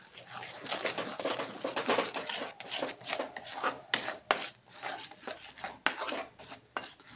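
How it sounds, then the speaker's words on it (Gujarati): Jaggery melts in a pan while being stirred constantly, giving rhythmic, uneven scraping and rubbing strokes of a spoon against the pan bottom, fairly close and moderately loud with short pauses. "આ રીતે સતત હલાવતા રહેવું જેથી ગોળ ઝડપથી ઓગળી જાય અને તળિયે બેસે નહીં."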